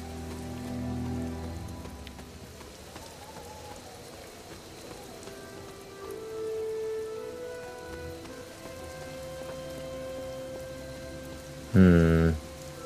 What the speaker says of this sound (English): Too bad it's raining.